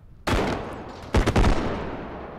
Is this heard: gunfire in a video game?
yes